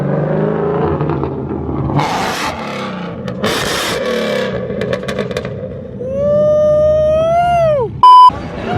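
Coyote-swapped, Whipple-supercharged Ford Focus at a street car meet in Myrtle Beach, its engine revving hard and rising in pitch, then cutting off with a sharp crack, heard over crowd noise and other passing engines.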